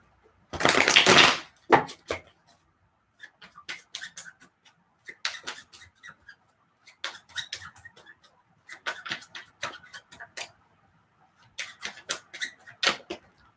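A deck of tarot cards is shuffled by hand close up: one loud riffle burst, then a steady run of soft, crisp card taps and flicks.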